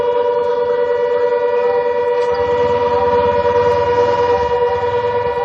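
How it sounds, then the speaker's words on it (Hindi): An air raid siren sounds during a drone alert in Barmer, a loud steady wailing tone that holds without a break, with a low rumble joining underneath partway through. "हम सायरन की आवाज सुन भी पा रहे हैं"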